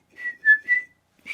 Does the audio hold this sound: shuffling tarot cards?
no